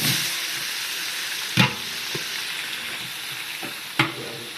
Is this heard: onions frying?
yes